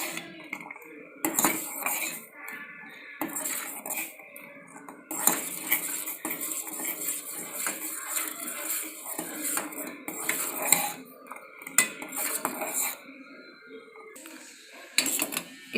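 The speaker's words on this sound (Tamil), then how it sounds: "நல்லா தொழவி விட்டுட்டே இருங்க, அது கொதிக்கட்டும்." A utensil scrapes and clinks against a metal pot in repeated stirring strokes of ragi porridge coming to a boil, close up, with short pauses between bursts.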